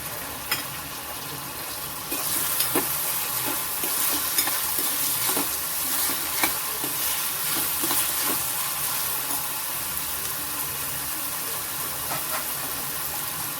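Onion and amaranth stems sautéing in a pan, a loud steady hiss of frying with rhythmic spatula stirring and scraping, close and continuous, with no one speaking.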